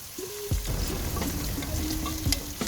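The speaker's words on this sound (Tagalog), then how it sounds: "Kapag medyo napiprito na ang inyong gulay" Vegetables frying in a pan for a vegetable-and-gammon caldereta, with a steady close sizzle, a couple of clunks from stirring, and light crackles throughout.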